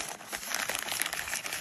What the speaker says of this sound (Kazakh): пакетпен орап, сыммен байлап тастайсың